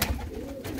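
Pigeons coo at close range in a single low, breathy rumble lasting under a second, steady and unbroken, with no talking over it.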